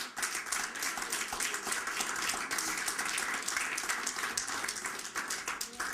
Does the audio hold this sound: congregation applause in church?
yes